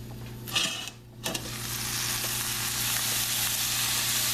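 Onions frying in a pan for a cod lyonnaise, a close, even sizzling hiss that dips briefly early on, then settles into a steady, unbroken fry.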